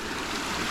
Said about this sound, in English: It's a little brook crossing.